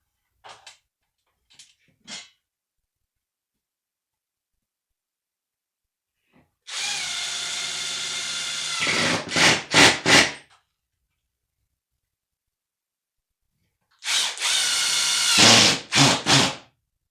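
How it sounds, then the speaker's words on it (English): A power drill drives screws up into a faux wooden ceiling beam in two separate bursts, each a sustained whirring run ending in several short stop-and-start pulses as the screw seats tight, after a few faint taps in near silence. "Just drill it until it goes in there tight."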